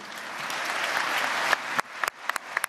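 A crowd applauding steadily in the French Senate, then the clapping fades and breaks into a few scattered, sharp individual claps.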